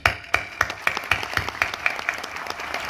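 Applause at a school ceremony, with sharp hand claps in a steady rhythm that swells briefly and then keeps on as a moderate, fairly close burst of clapping for the whole stretch.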